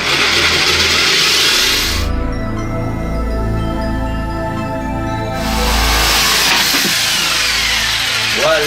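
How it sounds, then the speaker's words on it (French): Jigsaw slowly cutting through the wooden case of a 1969 Ducretet Thomson record player, a loud close buzzing rasp that pauses briefly mid-cut, then resumes. "Notre scie sauteuse et on va aller tout doucement."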